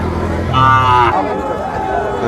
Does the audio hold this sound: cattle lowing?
yes